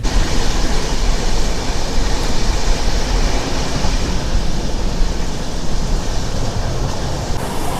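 The 12622 Tamil Nadu Express on its New Delhi to Chennai Central run fills the carriage with a steady, loud rolling rumble and hiss of wheels on track, unbroken throughout.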